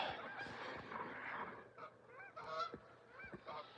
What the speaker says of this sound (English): So yeah, some good old Canadian geese.